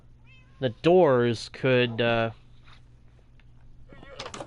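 A Minecraft cat meows clearly in two or three drawn-out calls close by, while someone talks briefly before and after.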